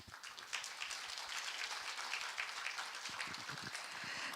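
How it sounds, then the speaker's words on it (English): A conference audience at an Asia-Pacific food regulators' meeting gives a round of applause, steady clapping heard from some distance and at low volume, with individual claps standing out toward the end. "Why don't we give Professor Ha for another round of applause for his great effort."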